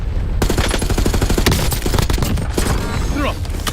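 Rapid bursts of automatic gunfire in a video game, loud and close, with dense overlapping shots and a voice shouting over the firing.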